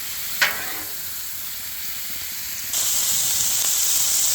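Mushrooms and shrimp sizzle on a Blackstone griddle with a steady, close hiss. A brief scrape-like burst comes early, and the frying grows louder and brighter partway through.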